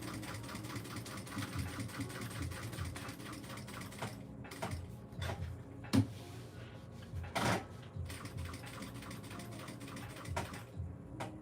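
Sewing machine stitching a handbag, quiet mechanical whirring with a few sharper clicks and knocks in the middle as the work is shifted, faint and close with no talk.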